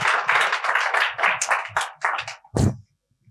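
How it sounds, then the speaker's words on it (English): A small audience at an enterprise AI conference session clapping, a close, brisk flurry of handclaps lasting about two seconds that ends in one last sharp clap before falling silent. "And a warm applause to you."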